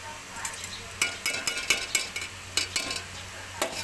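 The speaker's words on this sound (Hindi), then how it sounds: "अब इसको इतनी देर हिलाऊंगा" A spoon scrapes and clinks rhythmically against a pot while stirring an oil and sugar mixture for mutanjan, soft repeated strokes at close range over faint background hiss.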